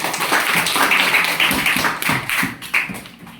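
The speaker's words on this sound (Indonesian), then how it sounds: "Tepuk tangan dulu." Students in a classroom clap together in short, uneven bursts, close and fairly loud, with distinct individual claps and slaps over a few seconds and no talking.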